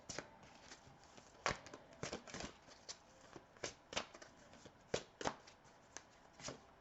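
Tarot cards are shuffled and pulled from the deck, giving soft papery riffles and crisp snaps at an irregular pace. The sounds are close but quiet, with no speech.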